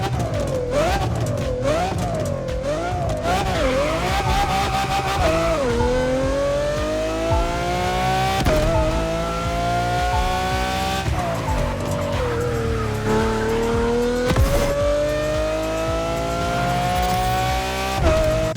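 Car engine in the racing video game The Crew Motorfest, a loud continuous engine note rising and falling through gear shifts, with tire squeal and skidding throughout and no talk.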